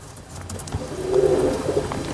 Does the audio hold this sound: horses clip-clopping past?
no